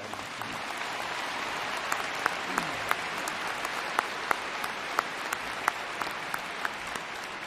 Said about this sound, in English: And I would ask a round of applause for those so dignified.